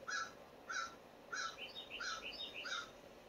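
A crow caws in a series of short, evenly spaced calls, then overlapping quicker caws, faint and a little distant in an otherwise quiet setting.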